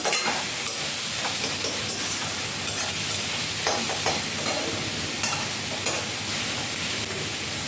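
Loud, continuous sizzling of tomatoes frying in a hot pan, a dense hiss with occasional crackles and soft stirring sounds, heard up close.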